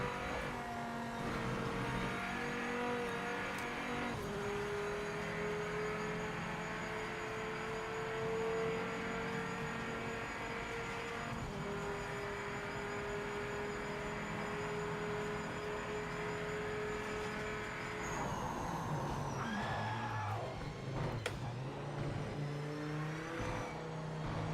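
Racing car engine in Project Motor Racing, a sustained, loud high-revving drone that climbs through gear changes, with a sharp shift and rev swing near the end; no voices.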